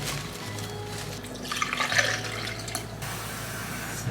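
Water poured from a tap or jug into a flower vase for a bouquet, a brief splashing fill rising over a steady background hum, fairly close and moderate in level.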